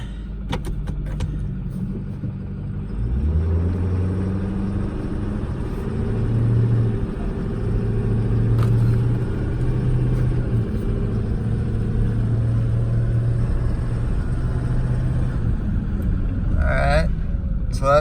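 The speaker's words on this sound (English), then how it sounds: "So that shifted a couple of gears so you can see everything works great." 2008 Ford F550 bucket truck driving ahead, its diesel engine rumbling and rising in pitch then dropping as the transmission shifts through a couple of gears, heard from inside the cab with occasional talk.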